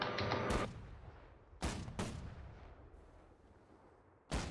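Naval cannons fire during a ship battle in Holdfast: Nations at War: a burst of heavy booms at the start, two more loud blasts midway and a final one at the end, each rolling off into a fading rumble.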